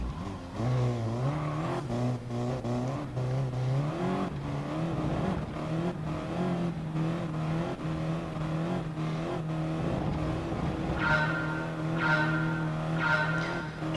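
Audi TT race car in GT Sport at a night race start at the Nurburgring 24h, engine droning and rising in pitch through gear changes, with tire squeal, steady and alone.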